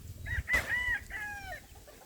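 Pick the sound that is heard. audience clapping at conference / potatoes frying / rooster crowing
rooster crowing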